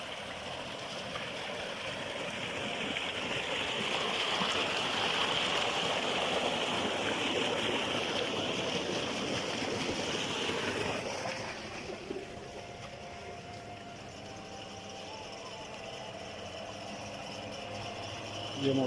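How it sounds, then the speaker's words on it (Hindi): A tubewell bore pump runs with water gushing steadily, a loud rushing flow that drops away sharply partway through, leaving a quieter hum and background sound. "अभी बोर चल रहा है, ट्यूबवेल भी हमारा है।"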